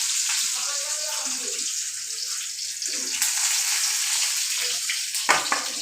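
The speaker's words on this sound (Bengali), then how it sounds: "আর একটু মরিচ ভাজতে হবে।" Chilies frying in a pan give a steady, fairly loud hiss and crackle, with a few brief clatters toward the end.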